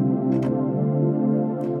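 The Alchemy synthesizer's Perfect Pad patch plays a warm, sustained background pad with layered steady tones and faint breathy swells, held evenly throughout without a voice.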